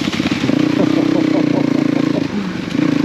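A Yamaha Ténéré 700 motorcycle engine revving on a dirt track, a loud close throbbing rev held steady, then a brief dip and a rise again, with a voice speaking over it.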